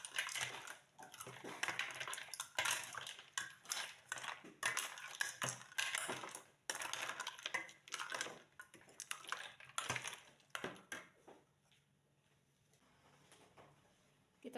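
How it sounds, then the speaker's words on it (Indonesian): Ice cubes and chopped fruit in a sweet iced fruit drink clatter and rattle as a spoon stirs them in a bowl, a busy run of close clinks that fades to quiet near the end. "Lalu kita aduk ya."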